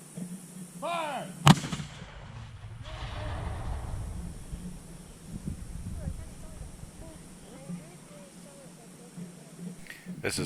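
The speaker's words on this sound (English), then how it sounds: "they were doing cannon demonstrations" A cannon fires at a battlefield demonstration at Wilson's Creek National Battlefield, one sudden loud boom followed by a long rumbling echo, with a shouted command just before and people talking nearby afterward.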